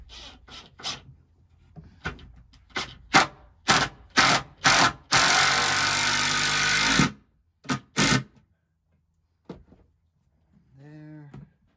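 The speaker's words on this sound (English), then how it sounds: "So I'm just going to get a couple initial screws started here." Power drill driving screws into a wooden attic hatch for an attic ladder, heard as several short loud bursts of whirring with a longer sustained run in the middle, separated by pauses and small handling knocks.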